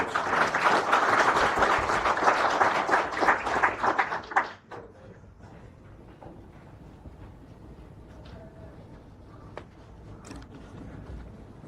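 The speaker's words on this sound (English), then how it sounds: "Let's give a round of applause." An audience applauds a student representative at a breakfast send-off for apprentices: loud massed clapping for about four seconds, then it fades to a quiet room with scattered faint knocks and rustles.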